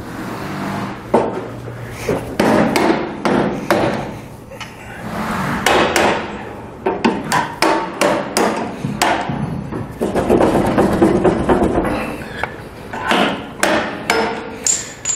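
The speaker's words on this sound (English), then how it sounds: "So you'll have to hit it pretty hard a few times to get those teeth to loosen." Repeated hard hammer blows on a steel bolt, loosening a suspension bushing plate on a vehicle, ring out in close, loud bursts of several strikes with short pauses between groups.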